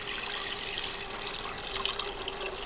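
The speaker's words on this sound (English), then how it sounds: "now I'm going to add 4 cups of water" Water poured from a container into a pan of fried vegetables for potal aloo rasa, a steady close splashing and trickling that holds constant throughout with no pauses.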